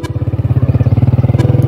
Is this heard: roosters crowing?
no